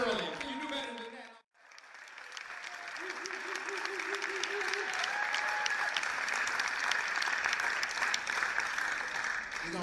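Audience at a spoken word show in Paris claps after a brief pause, the applause swelling into a sustained, even wash with faint murmuring and tonal traces mixed in.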